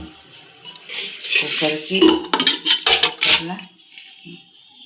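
Metal pots and lids clank and clatter as a heavy pressure cooker holding raw mangoes is set in place, with a few sharp clinks close by, then quiet.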